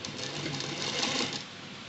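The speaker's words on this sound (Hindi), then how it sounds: "यहीं बीच से ही हम सिलाई करेंगे" A sewing machine stitches kurta fabric down the middle seam, a steady fast continuous whirring buzz that runs close and loud for about two seconds with no voices.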